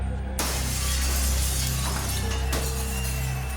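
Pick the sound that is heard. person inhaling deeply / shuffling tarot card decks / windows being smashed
windows being smashed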